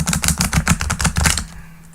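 Tarot cards being shuffled, a quick run of about ten sharp, evenly spaced riffling clicks up close, ending abruptly with near silence.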